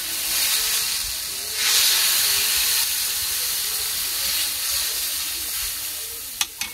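Water poured into a hot frying pan of browned food bursts into loud hissing sizzle and steam, settling into a steady bubbling fry, with a couple of sharp clinks near the end.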